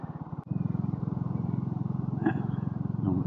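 A diesel vehicle on a quiet Cornish road gives a close, loud, throbbing rumble with a steady pulsing beat, broken by a short clunk near the start and a few faint rattles.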